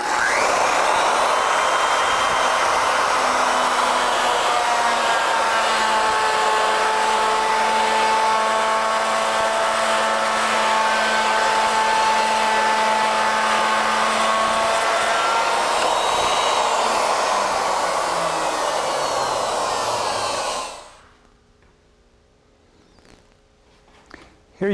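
A Legacy ornamental mill with a 1-inch cutter cutting a spiral, running as a loud, steady whining motor roar with a tonal hum for about twenty seconds before abruptly stopping, leaving near silence.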